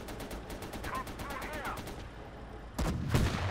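Rapid bursts of gunfire in the WWII strategy game Gates of Hell, with Gebirgsjäger infantry and Soviet defenses: a quick machine-gun rattle of evenly spaced shots, then heavier, louder blasts that land near the end.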